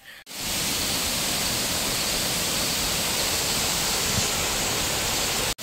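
A waterfall beside an overgrown forest trail gives a loud, unbroken roar of falling water, close and constant for several seconds, with brief cuts at the very start and end.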